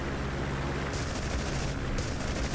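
The cannons of a P-47 fighter in DCS World fire in a dense, continuous roar of rapid shots, loud and close, with a brief gap in the middle of the burst.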